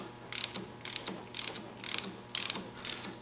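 Someone cranks a mechanism to adjust a drum setting, producing six short bursts of ratcheting clicks at a steady pace, fairly faint and close with no voice over them.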